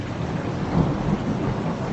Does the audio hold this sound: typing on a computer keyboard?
no